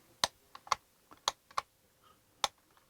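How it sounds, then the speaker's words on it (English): The grip arm of a Sony FS5M2 camera clicks as it swivels, giving a quick, irregular series of about half a dozen sharp, close ticks with short gaps between them. "you can swivel the arm. So there's a little, you can hear it clicking"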